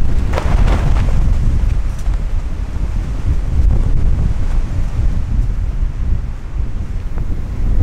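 Strong wind blows through a forest at a windy bivouac, roaring and buffeting loudly against the microphone in continuous surging gusts with no voices.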